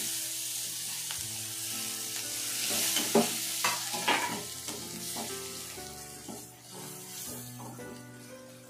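Steady close sizzle of cauliflower bhaji frying in a pan, with tomatoes tipped in and stirred, spoon scrapes and clatters over the hiss; no talking.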